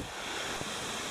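Water rushing down a brook or slide on the Allen Mountain trail in the Adirondacks, a steady broadband wash with no clear rhythm, fairly close and even throughout.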